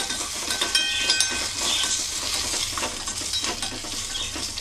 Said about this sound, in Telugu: జస్ట్ ఒక 5 మినిట్స్ అయితే ఇవి ఫ్రై అయిపోతాయి.